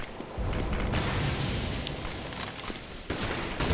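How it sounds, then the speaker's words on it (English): Pistol gunfire during a Counter-Strike match on the Cobblestone map, a Tec-9 among the weapons, with dense overlapping shots and game noise sustained through the moment, briefly dipping near the end. "Alu looking for the kill with the Tech 9."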